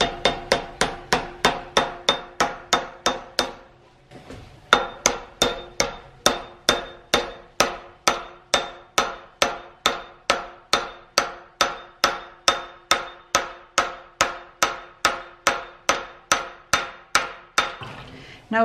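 Steady, evenly paced hammer blows drive a small wedge into a tool handle, dozens of sharp, ringing metallic strikes in close succession, with one brief pause early on, loud and near with no talking.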